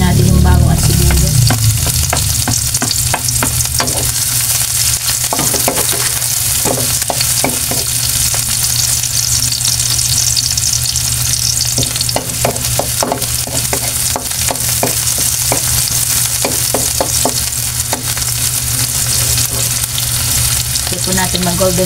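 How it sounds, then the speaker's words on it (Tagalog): Garlic and onion sauté in a pan with a loud, continuous sizzle and frying crackle, broken by occasional stirring scrapes throughout. "Samahin natin yung bawang at sibuyas."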